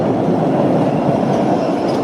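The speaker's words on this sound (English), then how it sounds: "So this is the northbound train." MBTA Red Line subway train at Park Street station, a steady loud rolling rumble of the railcars filling the whole stretch without any voices.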